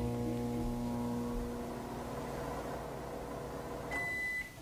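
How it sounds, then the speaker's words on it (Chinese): A microwave oven hums steadily with a low, tonal drone while heating a stirred mixture, then ends with a short electronic beep near the close. "我们现在先用微波炉。"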